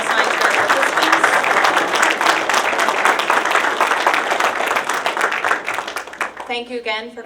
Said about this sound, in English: Another round of applause for all science fair participants.